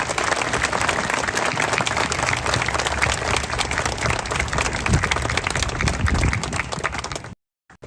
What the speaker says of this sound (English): Let's share a round of applause for our first responders.